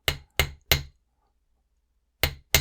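A hammer strikes a wire clasp loop on a metal block in five sharp, close taps: three quick evenly spaced blows, a pause, then two more.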